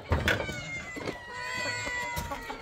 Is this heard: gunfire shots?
no